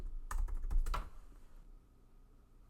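A short burst of typing on a computer keyboard, several quick close key clicks in the first second and then quiet, with no talk.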